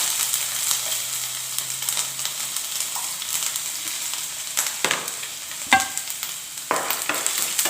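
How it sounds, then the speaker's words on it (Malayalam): Steady bright sizzle of mustard seeds in hot oil, with scattered sharp pops and a few utensil clinks, close and fairly loud throughout. "എണ്ണ ചൂടായിട്ടുണ്ട് ഇനി നമുക്ക് അര ടീസ്പൂൺ കടുകിടാം കടുക് പൊട്ടി തുടങ്ങിയാൽ"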